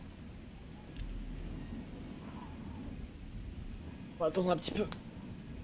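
Rain pours steadily in the video game Oblivion while a thunder rumble rolls in near the end, a continuous hiss of drops under a man's brief speech.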